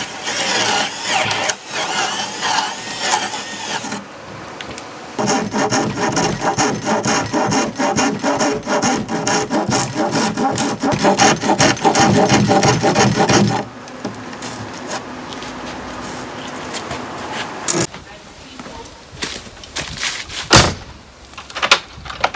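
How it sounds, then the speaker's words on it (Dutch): A round rasp files out a drilled hole in a wooden front door being hung, with long stretches of harsh, rhythmic scraping strokes close by, then quieter bursts and a few sharp knocks near the end. "En dan ga ik met de rasp, de ronde rasp"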